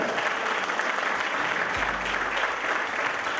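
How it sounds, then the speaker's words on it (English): Sustained audience applause at a summit event fills the whole stretch, dense and steady, with a brief low rumble joining partway through. "Another round of applause for him, man."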